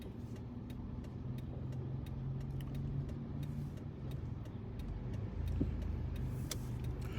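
Car pulling out of a parallel parking spot into traffic: a steady, quiet engine drone with soft low rumble and faint clicking throughout, heard from inside the car, no talking.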